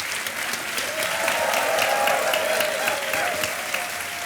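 A studio audience on the quiz show Kaun Banega Crorepati breaks into loud, sustained applause, dense and steady throughout with crowd noise swelling slightly in the middle.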